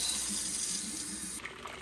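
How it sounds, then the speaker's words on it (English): Tap water runs steadily into a plastic soda jug being rinsed out at a sink, a continuous close hissing splash that shifts briefly near the end. "all we do is wash it out"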